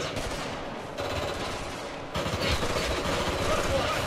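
Sustained bursts of automatic gunfire in the shooter video game Ghost Recon Future Soldier, a steady rattling barrage that grows louder and denser about halfway through, with no speech over it.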